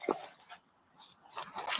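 A dog whimpers in a few faint, brief whines, with quiet gaps between them.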